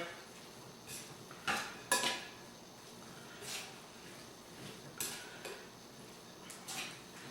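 Ingredients for pressure cooker chicken enchiladas mixed in a bowl, a handful of quiet scattered clinks and scrapes of a utensil against the bowl over a faint background, with no talking.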